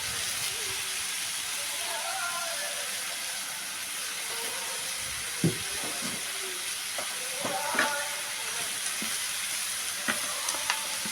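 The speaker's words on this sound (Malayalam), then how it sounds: "മുരിങ്ങയ്ക്ക കീറിയത് അതും കൂടെ ഇട്ട് ഇളക്കാം" Sliced drumstick pods being stirred in a frying pan for theeyal, a steady low sizzle with scattered scraping taps of the spoon against the pan, close and moderately quiet.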